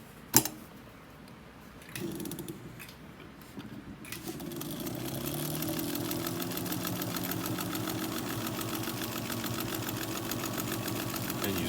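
An antique 1902 White Rotary 9002 sewing machine stitches through three layers of about 12-ounce denim, running in a steady, even mechanical hum after a few clicks and starts, close and alone with no talk.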